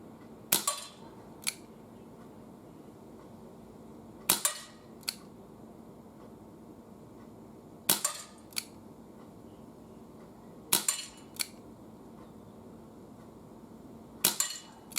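Five evenly spaced sharp cracks come from a new Webley 6-inch Service .22 calibre air revolver fired at paper targets on an indoor range at 10 yards to 15 metres. Each crack is followed by a softer click from the action, with quiet gaps between shots.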